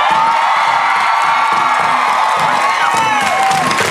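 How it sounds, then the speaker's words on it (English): A stage crew cheers and whoops together as a small crowd, loud and continuous, with shouts and high voices rising over the din. "Give me a cheer."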